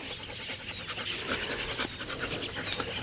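Dog panting nearby, a fast continuous breathy huffing that holds steady throughout at moderate loudness with no voices.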